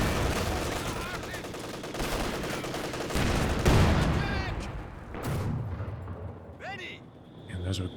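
Sustained MG42 machine gun fire in a Company of Heroes 2 battle, dense rattling bursts with explosions and shots layered over continuous combat noise, loud throughout with some talk underneath.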